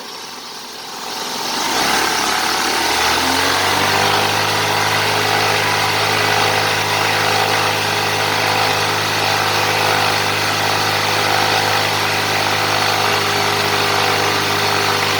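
A 2003 Honda Civic engine starts up and settles into a steady, even run held at about 3000 rpm, a loud constant hum with a stable droning tone.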